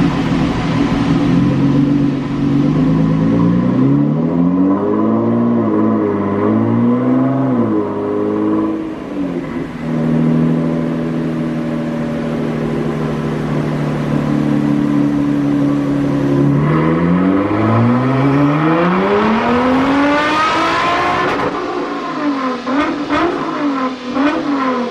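A stage 2 tuned Nissan GT-R revs hard on a dynamometer, its engine note loud and close, sweeping up and down in pitch through repeated pulls and climbing to a high-revving peak near the end.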